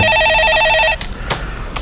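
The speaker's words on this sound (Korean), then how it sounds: "전화 받아보시죠" A telephone ringing with an incoming call in a stock-market advice broadcast, a loud rapid electronic trill for about a second, then cut off and followed by faint clicks and room noise.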